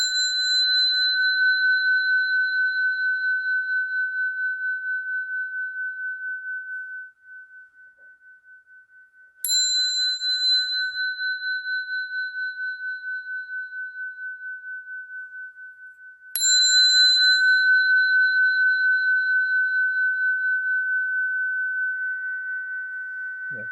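A meditation bell is struck three times at spaced intervals, each clear, pure tone ringing out and slowly fading before the next strike, with near silence between.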